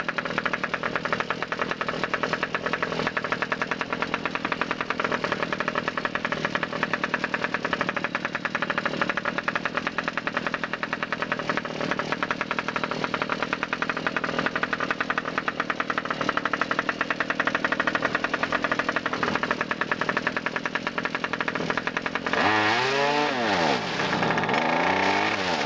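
A car engine idles steadily with a rough, knocking, rattling rhythm for a long stretch, close and constant, before a brief sweeping shift near the end.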